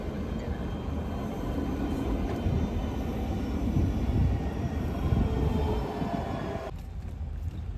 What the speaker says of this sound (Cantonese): 有輕鐵㗎呢度。